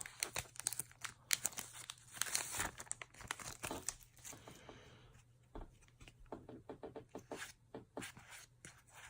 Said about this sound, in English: Maybe I should just grab a pair of scissors and just cut the top off.